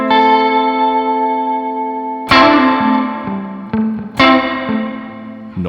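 Guitar chords ring out through a spring reverb setting on a Meris MercuryX reverb pedal, splashy and drippy, each strum leaving a long metallic tail that fades under the next hit.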